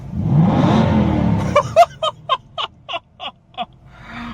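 An Aston Martin V8 Vantage with active exhaust revs hard once, then gives a rapid series of about eight sharp throttle blips, loud and close.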